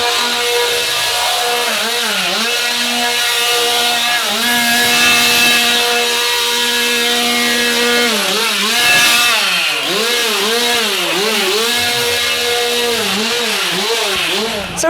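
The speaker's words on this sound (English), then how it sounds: "But Charlotte did so well with the chainsaws." A chainsaw drones loudly and continuously at a Screamfest scare attraction, its engine pitch rising and falling in repeated revs, with voices of visitors underneath.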